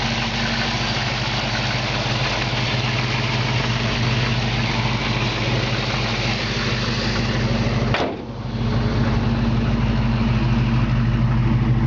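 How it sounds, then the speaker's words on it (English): A 1968 Camaro convertible with a small engine idles steadily nearby, a low even rumble with a brief dip and thump near the end before it settles back into the same smooth idle. "But you can just hear the engine sounds great. Purrs like a kitten."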